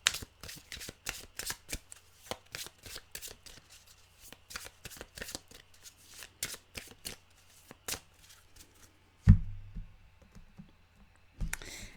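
An animal oracle card deck is shuffled by hand in a steady run of quick, crisp papery clicks and riffles, close and clear with no talking, ending in a couple of soft thuds.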